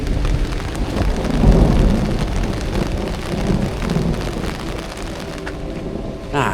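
Heavy rain patters steadily and loudly onto a small umbrella on a mountain hiking trail on the Tour du Mont Blanc, a dense continuous hiss close overhead with no talking.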